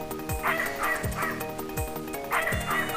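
A dog barks in the video game Snatcher. Several sharp, yelping barks repeat at a fairly even pace over a steady, droning electronic game soundtrack.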